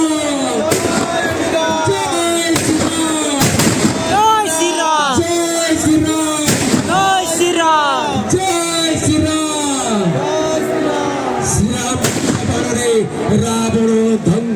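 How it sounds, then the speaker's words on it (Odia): Fireworks bursting continuously at a Ravana effigy burning festival in Pedagadi, a dense run of crackling pops and bangs close by, mixed with loud crowd cheering, shouting and whooping throughout. "ବାଣ ଫୁଟି ଚାଲିଲା"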